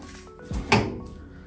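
A heavy-duty, sturdy door on a CalmDo 25-litre air fryer oven swings shut with a single solid thunk, close and fairly loud, followed by a brief rattle and then quiet.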